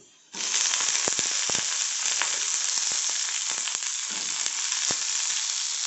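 Chopped capsicum dropped into a pan of frying onions sets off a sudden loud, steady sizzle, with crackling pops and spatters scattered throughout and no voices.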